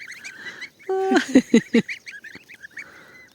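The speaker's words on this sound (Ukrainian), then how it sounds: "Яка пташка." Goose honks at a rural pasture, a burst of loud, close nasal calls in quick succession, with birdsong chirping throughout the background.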